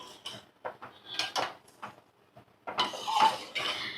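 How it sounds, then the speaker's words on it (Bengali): A spoon stirs milk in a pot for Bengali semai payesh, giving intermittent metal scrapes and clinks against the pot in short, irregular bursts, with quiet gaps between them. "এবার আমি ভালো করে নাড়াচাড়া করে নেব।"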